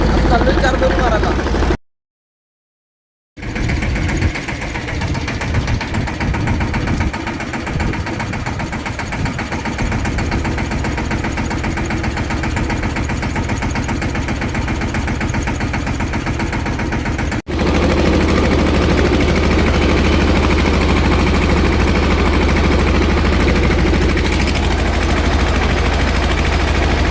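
A tractor engine runs during pesticide spraying in an orchard, a loud, steady mechanical drone with a rapid rattling pulse, briefly cut to silence early on and then continuing, with a shift in tone partway through.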